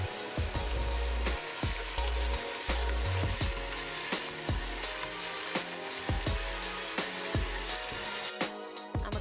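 A chicken rice base frying in a pan as it is stirred: a dense, continuous sizzle with frequent sharp taps and scrapes of the spoon against the pan, close and steady throughout.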